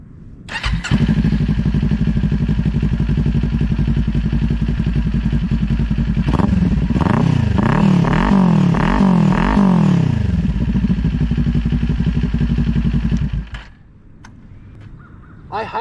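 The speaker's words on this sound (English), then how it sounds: "I absolutely love the way this bike sounds, so I'll start it up for you." A Kawasaki Ninja 400 fitted with a Leo Vince LV10 exhaust fires up after a brief crank, settles into a loud, steady idle, then gives a few sharp revs that rise and fall before the engine shuts off.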